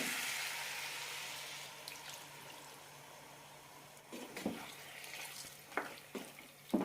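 Second coconut milk poured into a chicken mappas curry in the pan, a soft liquid splash and faint sizzle, quiet at first with a few sharper clinks and splashes toward the end.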